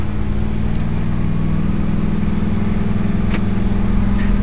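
A 2011 Ford F350 with the 6.2-liter engine drones steadily under load while pulling uphill, its hum even and close with no talk over it.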